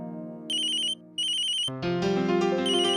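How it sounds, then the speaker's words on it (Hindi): An electronic phone ringtone plays a repeating bright chime pattern with a brief gap, then shifts into a fuller melodic tune, clear and close. "अक्षरा का फोन मुझे?"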